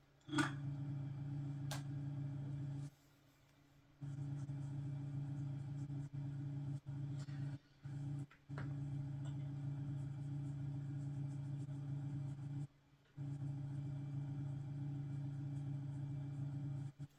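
Low steady car engine drone from Need for Speed Underground, a constant rumble with two brief dropouts, no talk over it.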